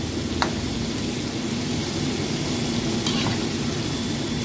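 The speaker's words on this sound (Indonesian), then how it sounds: "Ini kita goreng sampai kering dulu ya." Chicken fries in hot oil with a dense, constant crackling sizzle, close and loud, broken only by a couple of faint clinks.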